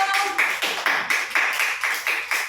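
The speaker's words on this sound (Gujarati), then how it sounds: "સરસ, તાળી પાડો." Children clap their hands in a steady series of about nine sharp claps during a matching game, fairly close and even in rhythm, with no talking over them.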